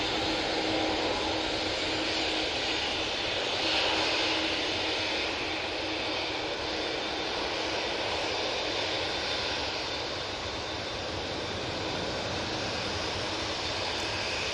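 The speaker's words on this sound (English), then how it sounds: "That A320 Neo is off to Jerba" An Airbus A320neo jet takes off at Manchester Airport, its engines giving a steady, broad roar that holds at an even level throughout, heard from a moderate distance with no voices.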